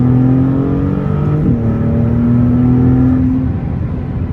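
A Maserati MC20 (2022) sports car with a 3-litre twin-turbo V6 and manual shifting revs hard and accelerates, its deep tone rising steadily with a brief shift partway through, heard up close with no talking.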